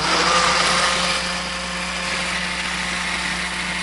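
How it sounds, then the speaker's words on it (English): Kitchen blender whirring enchilada sauce made with cilantro and chicken broth, a steady loud motor drone that holds constant from start to finish with no talking. "that goes right into your blender, and that's the sauce"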